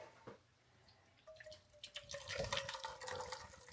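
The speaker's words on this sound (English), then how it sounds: "I'll pour this back into my bowl." Blended roast pumpkin soup pours from a high-speed blender jug back into a bowl, giving soft, thick glugs and drips that build into a quiet, uneven stream.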